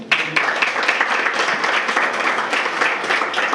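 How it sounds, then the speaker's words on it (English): An audience claps for Brian at a stole ceremony, the applause dense, steady and loud from start to finish. "Give him a round of applause."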